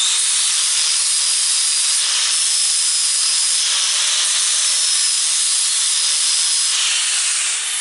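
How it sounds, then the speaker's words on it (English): A flap disc on an angle grinder cleaning steel for welding, a loud continuous high whining hiss that holds steady and close throughout with no pauses. "So I'm going to put a flap disc in here and clean this thing up."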